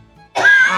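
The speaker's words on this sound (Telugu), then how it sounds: "గట్టి దగ్గు." A patient at a doctor's clinic gives one strong, harsh cough, loud and close, after a brief quiet moment.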